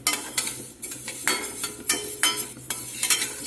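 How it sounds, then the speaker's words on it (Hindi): Whole spices dry-roasting in a pan over a very low flame for oal chokha and pickle, stirred with a utensil in repeated scraping, clinking strokes over a faint steady background, no talk. "इन तीनों चीज़ों को हल्की हल्की आंच पे भून लेना है।"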